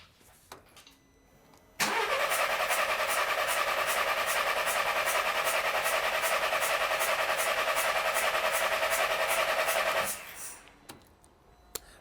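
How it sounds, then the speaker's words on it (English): Car engine cranking over on the starter during a compression test, a steady rhythmic churn with regular pulses lasting about eight seconds, loud and close, then stopping abruptly. "Roughly a 10-second crank duration."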